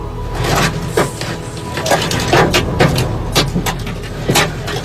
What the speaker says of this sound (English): A camera captured hail yesterday cracking a car window.